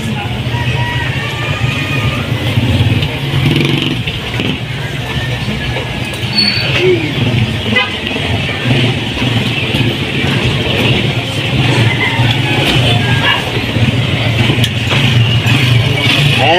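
A motorcycle engine runs steadily after a wiring harness repair, a continuous mid-pitched hum with slight revving variations, heard close up at fairly high level for the whole stretch without speech.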